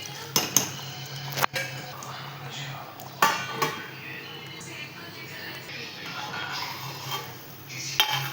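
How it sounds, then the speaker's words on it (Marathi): A lid is set onto a cooking pan while making bhagar barfi, giving a few sharp metallic clinks and knocks amid soft kitchen clatter, close and moderately quiet. "झाकण ठेवूया."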